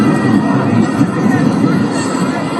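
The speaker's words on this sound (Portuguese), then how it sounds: "Só que já tinha muita gente vaiando" A large football crowd in a stadium, a dense continuous roar of many voices with booing mixed in, steady and loud throughout with no single voice standing out.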